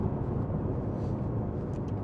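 The V8 engine of a 2022 Aston Martin Vantage sends out a deep, loud, steady rumble from inside the car while driving, a continuous low growl with no talking over it.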